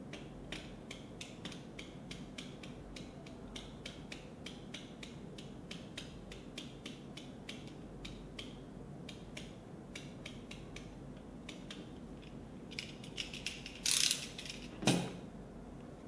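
Small steel blade scratching the pins of a flash chip clean, a quick run of faint, close clicky scrapes, with two louder scrapes near the end.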